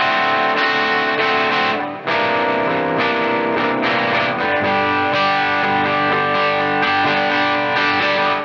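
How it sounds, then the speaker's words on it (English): Overdriven electric guitar through a Marshall amp with a Tube Screamer pedal, thick distorted chords strummed continuously with a brief pause near the start, loud and close, no talking. "I quite often slap the tube screamer on again."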